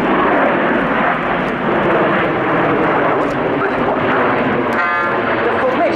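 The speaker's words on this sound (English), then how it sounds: "Solo pilot 350 knots white smoke inverted flight" Frecce Tricolori aerobatic jet roars loudly and continuously overhead during a display, the solo pilot flying inverted at about 350 knots trailing white smoke, with a brief tonal whine near the end.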